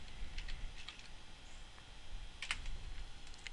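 Fast, uneven keystrokes on a computer keyboard as a Linux network command is entered, a light patter of clicks with a brief louder burst midway, close and fairly quiet with no talking.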